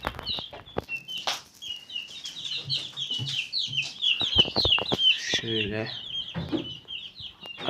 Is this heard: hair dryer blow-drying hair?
no